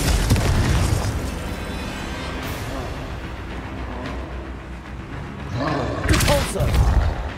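Confringo blasting spell going off in Hogwarts Legacy, a deep booming blast followed by a rumbling roar that fades, then another burst of impact noise near the end.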